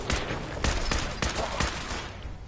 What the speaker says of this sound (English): I will shoot it until it dies.